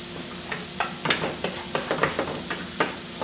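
Vegetables fry in a pan while being stirred, a steady soft sizzle broken by a dozen or so sharp scraping clicks of the utensil at an uneven pace, close and alone.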